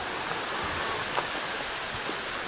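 Mountain stream Wielka Roztoka flowing through its valley, a steady broadband rush of water heard close and continuous with no talking.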